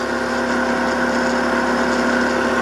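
A shunt- or series-wound DC motor runs steadily under rated load on a test bench, giving a continuous even hum and whine with no pauses and nobody talking.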